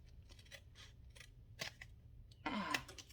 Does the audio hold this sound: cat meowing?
no